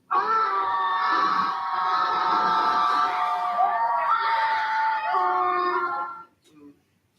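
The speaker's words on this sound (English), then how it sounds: "so desperately in need of not just screaming, but to be screaming in a group" A group of adults letting out a long, loud, sustained collective scream at a retreat centre, voices layered in a wailing chorus for about six seconds before breaking off, followed by a brief trailing cry.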